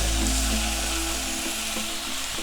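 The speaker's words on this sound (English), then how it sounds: "You want that nice sizzle." Steady, loud sizzling of chicken frying in a hot pan, a continuous crackling hiss with a few faint clinks.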